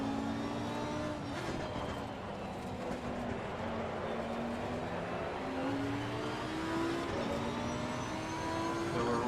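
Race car engine in a racing video game, a constant loud whine rising and falling in pitch as it shifts through gears on a slippery track, with no talk.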